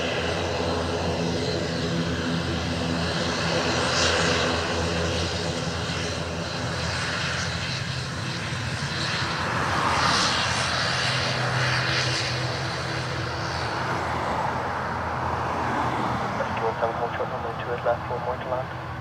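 At Dublin Airport, aircraft engines roar and drone for a long stretch, rising to a louder swell midway, with air traffic radio chatter heard over the engine noise.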